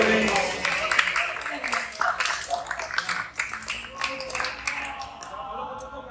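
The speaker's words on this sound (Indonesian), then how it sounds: "Tepuk tangan." Classroom of students clapping together for a winning group, a dense patter of many hands at steady moderate loudness throughout, with some voices mixed in.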